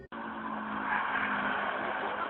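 A car drives past a house outside, a loud, sustained roar of engine and tyres that swells slightly in the middle as it goes by, with no talking over it.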